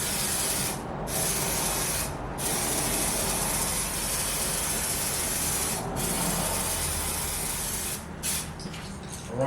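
Spray adhesive hisses steadily along the edges of a Dodge Challenger headliner being redone in suede, a loud continuous aerosol rush broken by a few short pauses between bursts.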